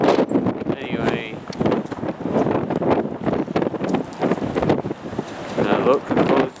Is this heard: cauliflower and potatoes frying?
no